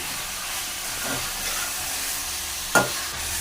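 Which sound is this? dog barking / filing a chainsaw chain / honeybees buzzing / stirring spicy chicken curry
stirring spicy chicken curry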